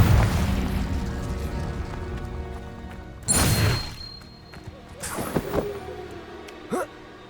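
Magical blasting-spell explosions in Hogwarts Legacy, several booming bursts with crashing debris spaced a few seconds apart, loud and close amid game sounds.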